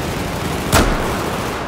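A single explosion in the Battlefield video game, set on the Titan in the South China Sea: a sharp, loud burst that decays quickly over steady background game noise, with no talk.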